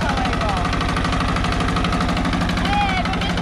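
An Ursus C-308 tractor watering a cucumber field holds a steady, loud diesel chugging with a fast, even pulse, and a voice talks briefly over the engine.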